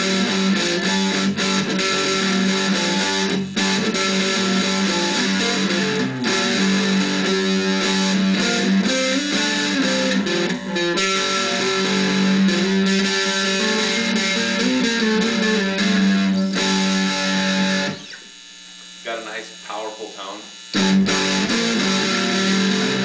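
Loud distorted electric guitar through a piezo pickup plays a dense, driving riff, dropping briefly to a few sparse notes near the end before surging back.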